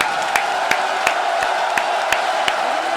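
Crowd at an esports Counter-Strike grand final in Budapest, a dense, steady roar of cheering voices with a rhythmic series of sharp claps or thumps repeating about every third of a second apart.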